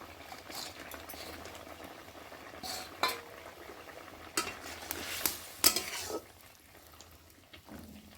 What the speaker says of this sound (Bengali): আগের থেকে ভেজে রাখা বড়াগুলো ঝোলের মধ্যে দিয়ে দেওয়া হচ্ছে।